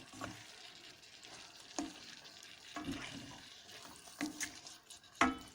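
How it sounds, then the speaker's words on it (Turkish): Beans sauté in a pot with red pepper powder, giving a quiet, continuous sizzle broken by several sharp clinks and scrapes of stirring. "Fasulyelerimizi biraz kavuracağım."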